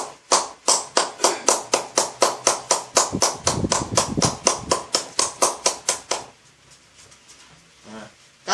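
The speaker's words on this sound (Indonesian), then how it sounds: "Kemudian kita tepuk juga." Rhythmic hand patting on a patient's neck and shoulders during a massage, about two dozen quick, even slaps up close that stop abruptly and leave quiet.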